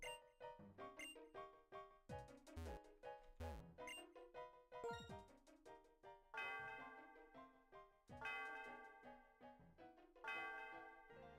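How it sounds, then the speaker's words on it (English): A tower bell in the Pokémon Gen 5 video game rings out at the top of a tall tower, struck in a run of bright, tonal dings over game music, clear and fairly loud with no talk. "we gotta ring the bell"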